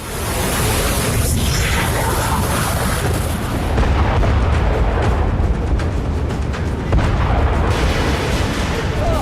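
Dense, continuous rumbling blasts and booms, loud and close, rolling one into another with no pauses between them.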